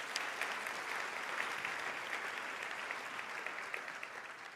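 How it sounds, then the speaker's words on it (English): Conference keynote audience applauding demonstration presenters, a broad, even wash of clapping from a large crowd that holds steady throughout, no voices on top. "Thank you, Eric, and our demonstration presenters. A round of applause."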